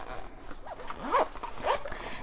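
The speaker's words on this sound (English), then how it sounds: "And then I just zip it up like so" A small pouch from a Coach bag is zipped shut in two quick, close zipper pulls, crisp and fairly quiet, with no speech.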